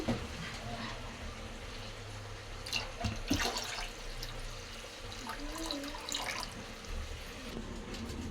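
Water is poured into a pot of mashed lentil and tamarind rasam made with drumsticks in a home kitchen, a steady close splashing and gurgling with a few brighter splashes partway through.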